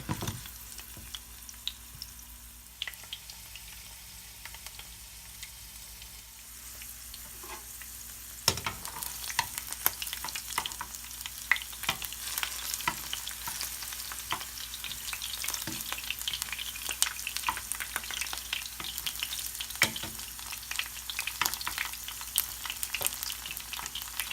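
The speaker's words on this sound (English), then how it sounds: "Let the garlic keep cooking. Let that get a nice little browning on it." Garlic and pine nuts frying in a pan give a continuous crackling sizzle that grows louder and busier partway through, with occasional stirring scrapes close by.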